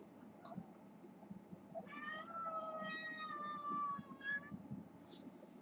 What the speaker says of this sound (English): Meowing cat.